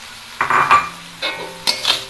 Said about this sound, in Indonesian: Dan kita masukkan ini untuk cekernya.